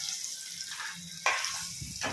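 Boiled eggs frying in hot oil make a soft, fairly quiet sizzle that rises in short bursts as they shift and settle in the pan.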